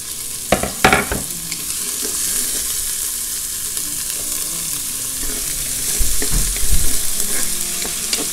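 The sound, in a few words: onion sautéing in oil in a Cookeo multicooker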